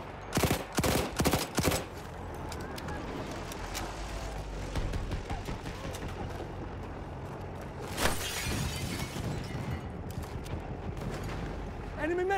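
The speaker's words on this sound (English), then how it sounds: "Machine gun over there." Bursts of machine gun fire in the Battlefield 1 video game, several rapid loud volleys at the start and again midway, over a constant battlefield din with a voice speaking.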